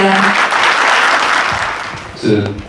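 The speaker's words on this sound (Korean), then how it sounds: "여러분 큰 박수로 맞으시면 감사하겠습니다" An audience at a book launch event applauds steadily, a broad wash of clapping that fades toward the end as a voice begins to speak.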